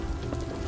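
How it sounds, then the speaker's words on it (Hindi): Rain falling steadily through a dense forest wilderness along a dirt track, a continuous soft patter of drops at moderate level with no voices. "उस वीराने में बस बारिश की बूंदों के गिरने की आवाज और मेरे पैरों की छप छप ही सुनाई दे रही थी।"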